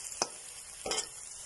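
Onions sauté in a pan for a mushroom curry, a soft steady sizzle broken by two brief stirring scrapes, close and fairly quiet.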